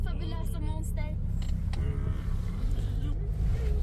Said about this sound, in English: So here we will put the car in D drive. So here is the car is running.